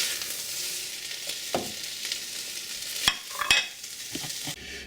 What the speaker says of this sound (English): Our onions are starting to get a little color, not too much.